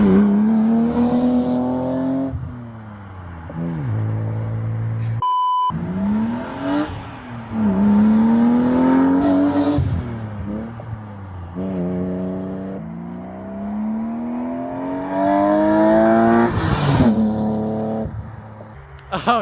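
A BMW E36 M3 fitted with a Dinan cold air intake revs hard outdoors, heard from outside the car: several loud rising pulls that climb in pitch and drop back between them, with a sharp click partway through.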